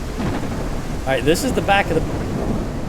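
Rain pattering on the roof of a vehicle in the Ranch Simulator video game, a dense steady hiss with low rumbling underneath, while someone speaks briefly over it.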